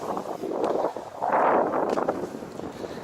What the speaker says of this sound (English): I apologize because it is windy here